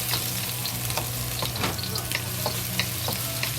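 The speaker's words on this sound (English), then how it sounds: "Slowly fry until the scallion releases good smell." Oil sizzles and crackles steadily in a hot pan as scallions fry, with occasional stirring scrapes close by and no voices.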